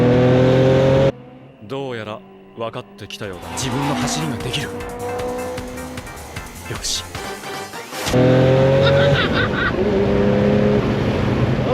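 A Porsche 911, repaired after running on five cylinders, revs hard and downshifts. Loud, close engine sweeps rise and fall through gear changes, with a sharp cut to near silence partway through, and an occupant exclaims over the noise.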